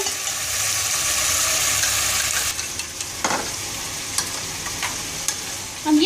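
Chicken pieces sizzle steadily in a pan with ginger garlic paste for achari chicken. A few sharp scrapes of stirring come through the hiss, and the hiss quiets a bit midway.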